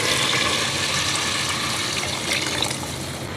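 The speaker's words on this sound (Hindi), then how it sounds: "इस टाइम पर इसके अंदर पानी ऐड कर देंगे।" Water pours steadily into a cooking pot of mixed lentils for tarka daal, a continuous splashing rush close by that swells briefly near the end, with no talking.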